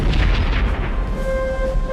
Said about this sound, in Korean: 74문의 강력한 대포들이 영국군의 중앙 진영을 향해 포탄을 쏟아부었다.